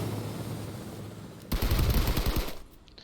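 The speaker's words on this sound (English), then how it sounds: "Taking a few random shots at the bush." A quick burst of gunfire in a battle royale shooter, aimed at a bush, loud and sharp for about a second after a stretch of quieter in-game ambience, with no voices.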